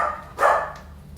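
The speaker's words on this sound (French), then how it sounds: "C'est mon chien Kawa." A dog gives a single short, fairly loud bark indoors near a laundry corner in a house under renovation, standing out against a quiet background.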